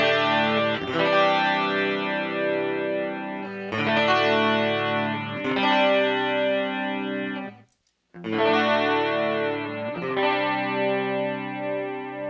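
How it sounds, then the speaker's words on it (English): Clean electric guitar through an MXR Rockman X100 pedal with chorus enabled, playing sustained shimmering chords in several phrases, with a brief silent gap before the final chords ring out; no talk. "The clean 2 sound is what you get when you first start this up. I've got the chorus enabled on here."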